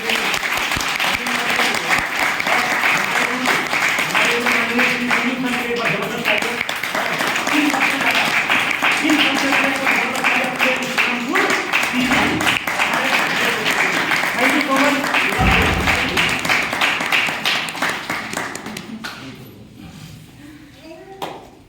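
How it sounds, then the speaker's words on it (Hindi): Sustained, loud audience applause fills a speech meeting hall in Gurgaon, Haryana, greeting a company owner, holding steady for about seventeen seconds before thinning and fading out near the end. "एक बार जबरदस्त तालियां कंपनी के मालिक श्री प्रदीप जी।"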